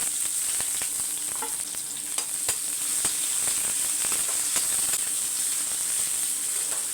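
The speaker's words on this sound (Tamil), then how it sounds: "அந்த பச்சை மிளகாவும் காஞ்ச மிளகாவும் பொரியணும்" Green chilies and dried red chilies fry in hot oil in a pan, a steady bright sizzle with scattered crackles and occasional stirring taps, continuous and close with no talking.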